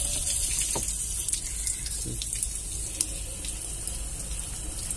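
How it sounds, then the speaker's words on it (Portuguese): Water streams from a garden hose into a car radiator during a cooling-system check, a steady close splashing wash with a few brief drips and knocks and no talk. "Vou jogar a mangueira aqui, ó."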